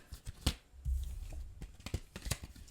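Tarot cards are shuffled and handled close by in uneven bursts of soft slaps and riffles, with a few sharper clicks and no speech.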